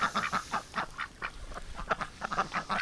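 Muscovy ducks at night, a close flock giving repeated short rhythmic quacks and hisses, steady bursts throughout with no voices.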